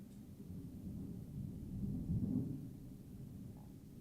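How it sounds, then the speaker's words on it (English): Low thunder rumbles faintly in the distance during a live game development stream, a soft, steady roll that swells and fades over a few seconds with no voices. "I do like thunder."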